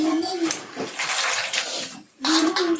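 Kurdu leafy greens are rinsed in clean water, giving close splashing and sloshing in short bursts with a brief pause between them.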